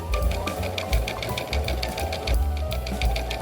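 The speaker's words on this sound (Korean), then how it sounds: "준비된 땀밴드를 모자 둘레에 봉제해 줄게요." A sewing machine stitches a sweatband around a cap made from an upcycled T-shirt, a steady close rapid clatter of needle strokes running throughout with slight pauses and speed changes.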